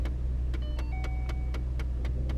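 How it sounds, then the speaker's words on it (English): A 2012 Ford Mustang with a 3.7 engine idles with a steady low rumble inside the car, accompanied by regular ticking clicks and a brief rising electronic chime. "See my car turns on actually"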